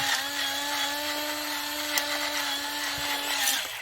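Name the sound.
pepper grinder grinding peppercorns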